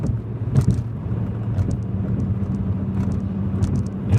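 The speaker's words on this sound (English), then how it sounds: "We'll be driving around for a while." Steady low engine and road rumble from a car cruising along, a continuous droning hum with faint wind noise and a few light clicks, no talking.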